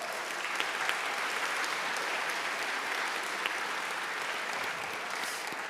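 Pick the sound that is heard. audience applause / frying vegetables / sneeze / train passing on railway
audience applause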